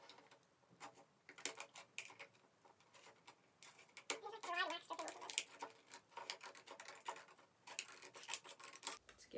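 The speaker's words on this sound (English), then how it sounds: "Now I'm gonna have to cut some of it." Scissors or a blade snip and scrape through the wax of a Monster Energy candle, giving a run of close, irregular ticks and crackles with a denser burst of scraping midway.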